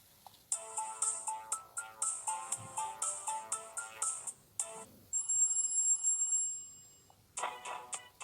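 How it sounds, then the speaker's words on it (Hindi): A bright electronic ringtone melody from an X9 Call2 Android smartwatch plays in repeated short phrases, with a sustained shimmering tone partway through before the tune returns, clear and alone. "अभी हम सबसे पहले इसकी यहाँ पे रिंगटोन देखते हैं।"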